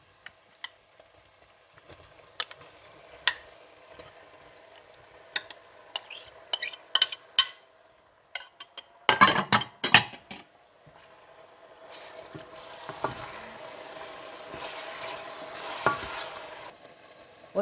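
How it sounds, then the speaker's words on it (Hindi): Liver being stirred into degi keema in a pot, with scattered spoon scrapes and clinks, a burst of louder stirring midway, then a low steady sizzle toward the end; no talking. "और इसके बाद कलेजी डालकर मिला लें।"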